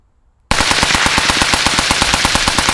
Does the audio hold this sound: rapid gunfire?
yes